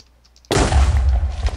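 A sudden explosion in the Minecraft video game with superhero mods bursts after a quiet half second into a loud, sustained rumbling roar with crackle, no voices over it.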